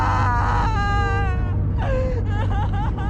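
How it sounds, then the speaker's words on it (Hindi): A woman's eerie wailing cry in a horror story, rising and falling in long drawn-out sobs and moans over a low steady rumble, loud and close. "ये तो किसी औरत के रोने की आवाज है यार।"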